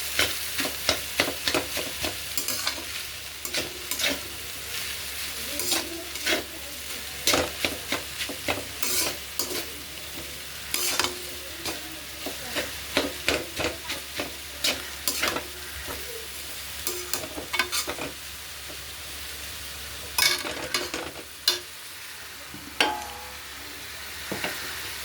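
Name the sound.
chow mein being stir-fried in a pan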